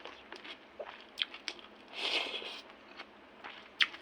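Close, quiet eating of rice with egg and coffee: a run of soft bites and crunchy chews at an irregular pace, with one longer rustling crunch in the middle and no speech.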